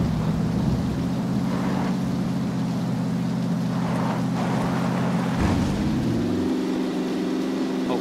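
Motorbike engine in PUBG, a steady droning hum held at constant pitch that dips abruptly as the bike stalls, then settles to a lower, slightly different tone, loud and continuous with no talk.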